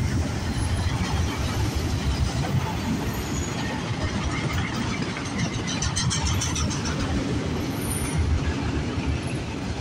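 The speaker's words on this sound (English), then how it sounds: "Oh, look at that, a CP train! Train meet!" A CN freight train hauling auto racks rolls by up close, a steady loud rumble of wheels and cars with faint squeals, continuous for the whole stretch with no talking.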